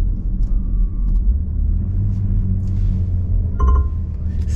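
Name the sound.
six-cylinder 3-litre car engine starting and running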